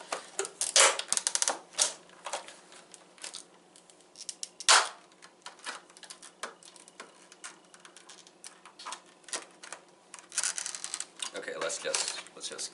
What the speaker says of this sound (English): We just remove these plastic pieces together.